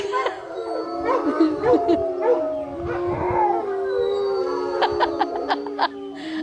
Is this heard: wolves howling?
yes